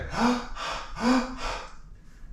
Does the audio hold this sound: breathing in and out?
yes